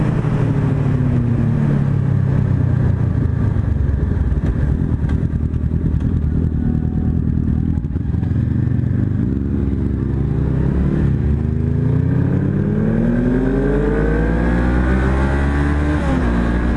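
Honda CB500F motorcycle with a loose exhaust baffle giving it a sporty tone, a loud continuous engine drone with rising and falling revs as it rides, close up and without talk.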